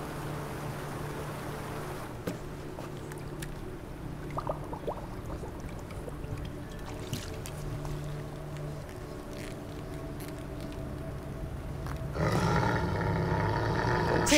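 Wolves growl in the Viking-era video game Assassin's Creed Valhalla, low rumbling snarls under ambient game sound, building to a louder roar near the end, with no talk.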